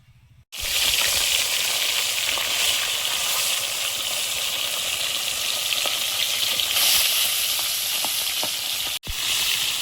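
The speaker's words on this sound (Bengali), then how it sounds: "আর এখন মাছগুলো ভেজে নিই।" Fish, rohu and tilapia from a pond, frying in hot oil in a pan: a loud, steady, dense sizzle that runs almost unbroken, with a brief dropout near the end.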